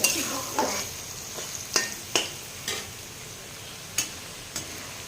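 Paneer and potato frying in a pan for a festival night offering, a steady sizzle broken by several sharp scrapes and clinks of a spatula stirring, fairly close, with no talk.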